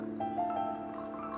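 Water poured into a glass holding honey and sabja (basil) seeds while making hibiscus tea: a close, steady trickle with a faint ringing tone from the glass, and no talking.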